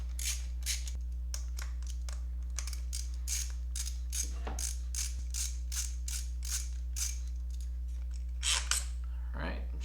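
A ratchet turns in short repeated clicking bursts as it loosens the coil pack bolts on a Mercedes SLK, a steady series of close, fairly quiet clicks over a low constant hum.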